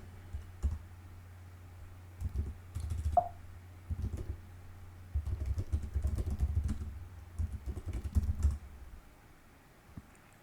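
Bursts of computer keyboard typing entering an apt-get stress command, quick clustered key clicks close by with short pauses, over a faint low hum.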